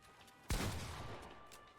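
A single sharp shotgun blast in Fortnite during a box fight, a sudden loud crack followed by a short fading boom, with no other shots.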